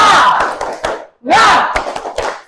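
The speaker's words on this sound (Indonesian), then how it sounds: "Pimpin tepuk semangat." Children chant loudly together while clapping in rhythm during a classroom spirit cheer, the tepuk semangat, in two bursts of shouted syllables and sharp claps separated by a brief pause.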